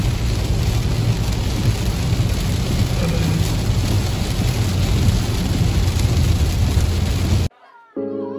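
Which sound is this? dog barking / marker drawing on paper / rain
rain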